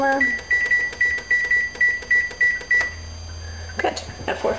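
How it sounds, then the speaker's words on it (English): Oven timer gives a steady series of about ten short, evenly spaced high beeps, followed by a low hum and faint handling clatter. "Timer."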